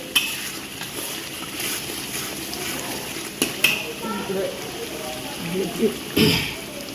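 Spices frying in hot oil for an okra and potato (aloo bhindi) curry: a steady crackling sizzle with occasional sharp scrapes and clinks of stirring, close and fairly loud.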